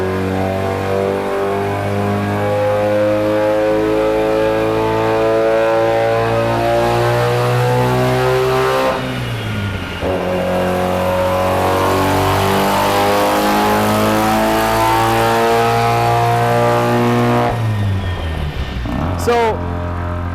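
A Mazda FC RX7 engine revs hard on a dyno, loud and close, holding steady high revs with brief dips as it shifts, while people talk faintly beneath the roar.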